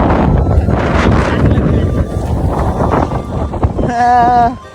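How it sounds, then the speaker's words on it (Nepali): Loud, gusty wind buffets the microphone in a continuous roar, with a brief tonal whine near the end and some voices mixed in. "the challenges we are facing is the heavy wind flow"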